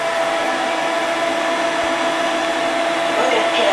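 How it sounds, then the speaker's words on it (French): A MOVA X4 Plus vacuum mop runs on a floor in vacuum-only mode, giving a loud, steady whirring motor drone that holds evenly throughout. "Là, je ne fais qu'aspirer"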